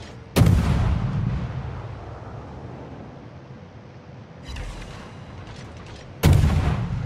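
Warship guns fire in a naval video game, two loud, heavy booming salvos several seconds apart, each with a rolling rumble that fades, over steady sea and wind ambience.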